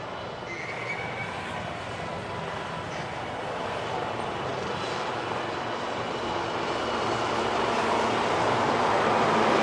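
Sarang display team aircraft roar past at an air show on Marina Beach, Chennai, as a loud, continuous broad engine rumble that slowly swells and stays close and steady throughout.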